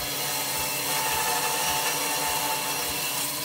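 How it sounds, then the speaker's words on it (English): A woodworking machine trims about a quarter inch off one side of a wooden piece, giving a loud, steady, close-up whirring cut that runs for the whole stretch without a break. "It's going to cut about a quarter inch off this side."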